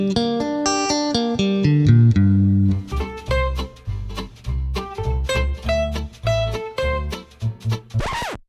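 A minor arpeggio picked note by note on an electric guitar, ringing single tones in a steady rising and falling run, loud and close with sustained overlapping notes and no talk.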